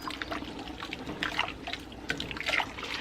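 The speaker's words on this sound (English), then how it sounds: "So now I'm going to stir this up." Chili with kidney beans and chili beans being stirred in a pot, giving soft, wet sloshing and scraping of thick liquid in a steady, close, continuous churn with no talking.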